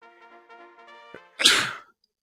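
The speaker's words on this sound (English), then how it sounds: "I gotta sneeze so bad." A single sharp sneeze bursts out after a stretch of harmonic tones, loud and close, lasting about half a second during a Monster Rancher tournament playthrough.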